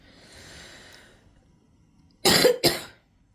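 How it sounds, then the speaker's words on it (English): Two quick, close coughs break a quiet stretch, following a faint breathy exhale earlier. "I'm sorry if I keep coughing."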